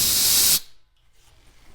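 Compressed air from a homemade budget compressor rushes out of a 1/2 inch valve on black iron pipe in a loud, harsh hiss. It cuts off sharply after about half a second, leaving near silence.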